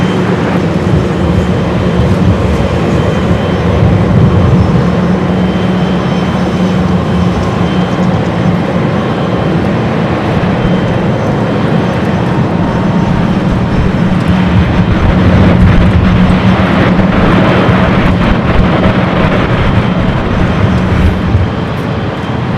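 A Boeing 777 freighter jet from Shanghai at LAX makes a loud, steady, broadband roar with a low hum that holds evenly for the full stretch, close and unbroken.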